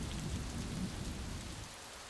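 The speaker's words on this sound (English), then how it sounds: "Drip, drip, splash. Here comes the rain." Steady rain pouring down, a dense wash of patter with a low rumble beneath, loud and continuous.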